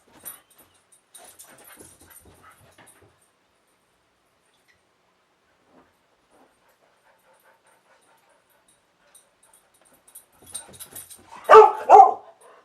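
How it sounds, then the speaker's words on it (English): Pet dogs bark in a short burst of a few loud yips near the end, after a long, nearly silent stretch with only faint scattered rustles. "Sorry if you can hear my dogs."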